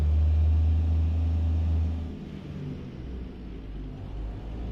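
A Western Star 49X truck rumbles low while backing up a trailer in a video game, loud engine drone at first that eases to a quieter steady idle rumble.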